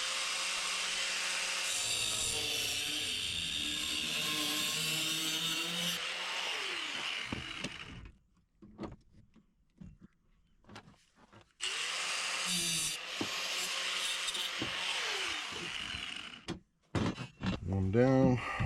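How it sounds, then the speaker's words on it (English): A cutoff wheel slices through metal gate parts, giving two long, loud grinding passes with a brief pause of quieter handling and clatter between them, then a short burst at the end. "I'm going to use a cutoff wheel instead of a hacksaw."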